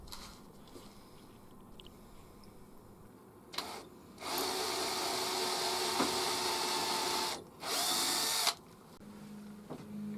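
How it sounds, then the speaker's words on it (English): A power drill boring pilot holes into wood for a small antique-style grinder with a chestnut body, two sustained whirring bursts after some faint handling clicks, fairly quiet and close. "And with just a couple of pilot holes to drill,"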